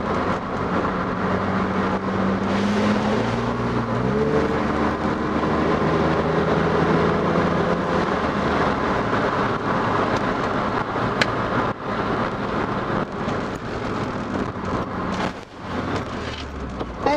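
A BMW E30 driving along a mountain road with the windows down, its engine note rising and shifting steadily over a constant rush of road and wind noise, heard from inside the car.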